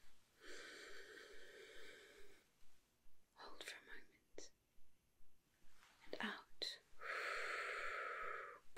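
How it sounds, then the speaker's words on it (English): Slow, deep breaths close to the ear in a hushed setting, long airy inhales and exhales alternating with soft whispered speech. "breathe in with me"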